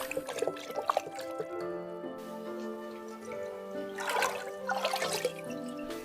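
Water being poured and trickling into a celadon glaze mixture of fired mineral, bone and red clay, faint splashes and dribbles over a soft musical background.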